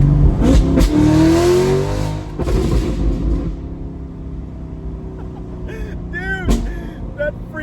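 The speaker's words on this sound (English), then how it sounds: "I can downshift so you can hear it." A C8 Corvette with a Bad News Racing tune revving loudly on a downshift, a close engine roar that swells and then drops as the throttle is released, followed by quieter engine burble and brief pops.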